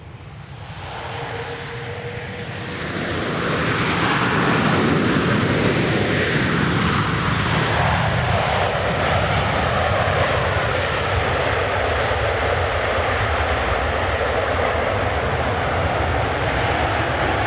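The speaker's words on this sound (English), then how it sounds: "here comes Air Force One in for a landing out of the west" Air Force One, the presidential jet, coming in to land at Palm Beach International Airport, its engine roar swelling over the first few seconds into a loud, steady, broad rushing drone that holds to the end.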